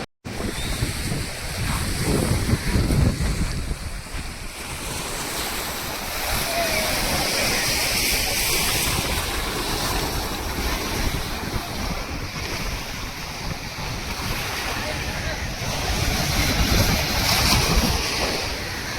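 Sea waves washing onto the shore near Rameswaram, a continuous broad roar of surf mixed with strong wind buffeting the microphone, fairly loud and steady with swelling surges; faint talk now and then.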